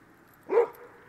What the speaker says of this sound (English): Neighbor's dog is saying hi.